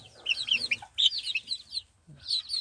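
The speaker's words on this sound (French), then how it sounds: "Deux coqs, trois poules." Young chickens in a backyard flock with two roosters and hens chirp and cluck close by, high, quick peeping bursts in three clusters separated by short silences.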